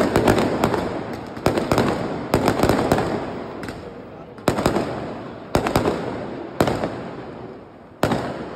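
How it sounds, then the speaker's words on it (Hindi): Diwali firecrackers burst in Mumbai, a string of sharp loud bangs spaced irregularly about a second apart, each followed by a crackling, hissing tail of debris and smoke. "क्रैकर जला के बहुत सारे फटाके चलाए"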